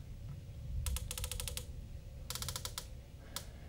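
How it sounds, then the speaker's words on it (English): Turret clicks on a US Optics TS-20X rifle scope with non-locking turrets, crisp rapid trains of detent clicks in two bursts with a final single click, close and clear against a quiet background. "these are not locking turrets, but these do have a very good feel to them and a good click"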